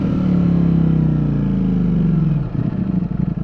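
A Ducati Streetfighter V4S V4 motorcycle engine runs loud and steady up close, a low throbbing idle that drops and turns rougher and more uneven near the end.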